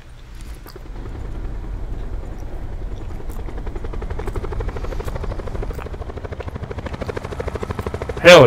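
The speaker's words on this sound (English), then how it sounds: "Is that a helicopter?" A helicopter in a video game: its rotor beats in a fast, steady chop with a low engine drone, loud and continuous, ending in a sudden sharp burst.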